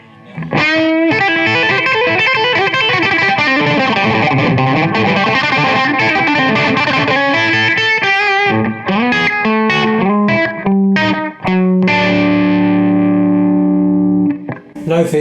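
Heavily distorted Les Paul electric guitar played loud, with a rock tone, dense sustained chords and riffs that cut off abruptly near the end before a final ringing note.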